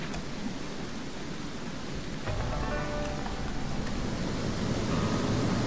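Steady broadband rushing of river water in the video game Shelter flows continuously, moderately loud, with a faint tonal chime briefly over it and no speech.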